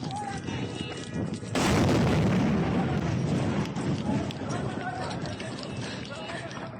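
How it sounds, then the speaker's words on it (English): A missile strike on a city in Doha, Qatar, lands as a sudden loud broadband blast that swells into a long roaring rumble, with excited voices around it. "shows the moment Israeli missiles hit the city."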